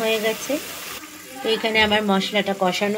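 Spice paste for chicken rezala fries in a home kitchen pan, giving a continuous close sizzle with small stirring bursts. A voice talks over the cooking.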